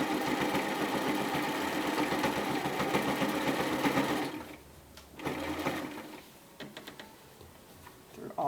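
A sewing machine stitches through three layers of bomber jacket fabric, running fast and continuous for about four seconds, then stopping, followed by a couple of short, quieter bursts of stitching.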